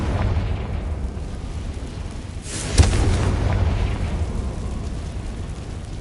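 The Confringo fire spell in the Hogwarts Legacy video game bursts with a sharp explosive crack, followed by a rumbling roar and a long fading tail over steady low background noise.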